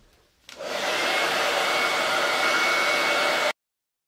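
A hair dryer switches on and blows steadily for about three seconds, drying glaze paint on a painted cupboard. The airflow rushes loudly and evenly, then cuts off abruptly.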